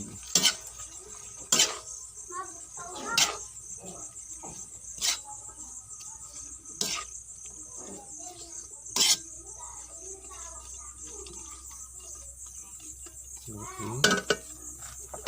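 Adobong kangkong is stirred in a pan with a utensil, producing sharp, separate metal clinks and scrapes every second or two, while a voice speaks between the strikes.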